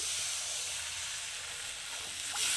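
A fish curry's fried spice paste sizzles in hot oil as a small amount of water goes in, a loud, continuous broadband hiss with a brief brighter flare near the end, with no voices.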